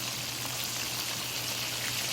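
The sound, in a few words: chicken tenders sizzling while frying in a pan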